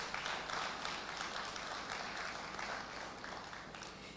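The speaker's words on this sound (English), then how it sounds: "Give yourselves a big round of applause." Applause from a graduation audience at a police staff and junior command course ceremony, a dense, steady wash of clapping lasting throughout, loud and sustained with no voices.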